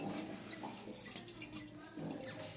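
Water from a bathroom hand spray runs in a steady, forceful hiss close by in a newly finished bathroom, with a slight rise in intensity near the end.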